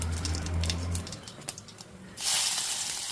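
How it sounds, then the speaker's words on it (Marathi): Garlic dropped into hot oil already seasoned with mustard seeds and cumin, cooking for a Maharashtrian roasted eggplant dish; a loud broadband sizzle bursts up near the end after quieter kitchen noise, close and alone. "आता लसूण टाका."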